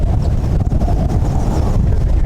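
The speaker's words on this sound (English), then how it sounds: "So now it's very windy, very cold coming back into Milford Sound" Strong, cold wind buffets the microphone in a loud, continuous low roar near Milford Sound, New Zealand, gusting throughout with a faint rush of water underneath.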